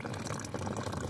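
Lake water poured through a cloth bandana into a water bottle, a brief close splashing, gurgling trickle with a bubbly fill sound, heard alone.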